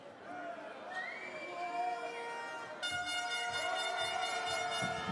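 Arena crowd at a Basketball Champions League game in Manresa, a steady murmur filling the hall with rising noise and rhythmic chanting or clapping toward the end. Sustained tonal music or horn blasts sit over it.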